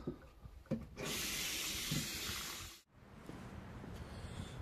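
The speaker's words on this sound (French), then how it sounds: "Je vais venir rincer." Brass cartridge cases for .357 Magnum reloading rinsed under tap water: a loud, close rush of running water lasting nearly two seconds, then cutting off abruptly, with softer handling sounds before and after.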